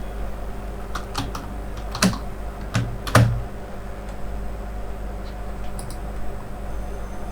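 Email ID and password typed on a computer keyboard, close and fairly quiet: scattered key taps in short irregular bursts with a few sharper louder presses.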